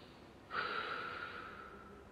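A single breath, drawn in or pushed out, starts suddenly as a short airy rush and then fades slowly over about a second and a half. It is faint, close and on its own.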